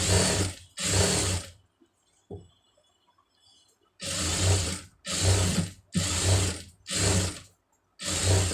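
Sewing machine stitching along a blouse neck edge, running in loud bursts of about a second each with short pauses between, close and alone without any talk.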